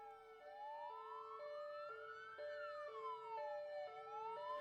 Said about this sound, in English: Police sirens well in the distance as I drew closer to Abbotsford.